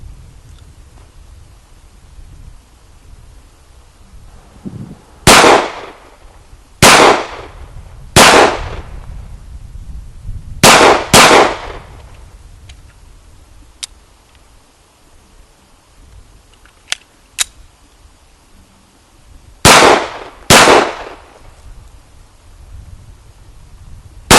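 Shots from an H&K USP 9 Compact pistol crack out at an outdoor range, about eight loud sharp reports spaced irregularly, some in quick pairs, with quiet gaps between.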